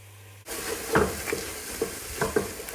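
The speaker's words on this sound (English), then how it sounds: "Stir that in." Tomato puree is stirred into frying vegetables for spaghetti bolognese, a sudden sizzle starting after a brief quiet moment, then close spoon scrapes and stirring strokes over steady frying.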